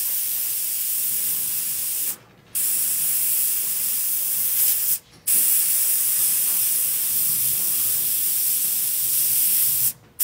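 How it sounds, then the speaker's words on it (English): Lacquer thinner sprays onto the side of a taxidermy fish head in a shop, a loud continuous airbrush-like hiss broken by three short pauses. "I have a lot of lacquer thinner spraying out onto the side of my fish head."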